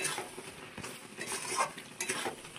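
Raw mango chutney with its peel on is stirred together with a roasted spice mix, giving soft scraping and wet stirring sounds with faint sizzling, quiet and close, without speech.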